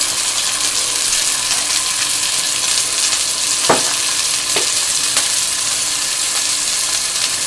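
Bone-in, center-cut pork chops seasoned with salt, pepper and garlic powder sizzle loudly and steadily in a hot pan, a dense close frying hiss with a few faint clinks and scrapes partway through.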